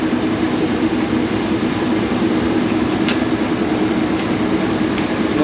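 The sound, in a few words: Maytag dryer drum spinning after belt replacement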